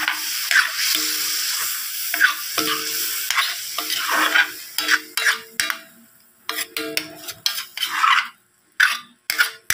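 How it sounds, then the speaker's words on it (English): Meat and pork fat frying in a pan with a little water added, a steady loud sizzle broken by repeated bursts of stirring and utensil scraping, with no talk. "And just a little water to allow the meat and the pork fat to cook"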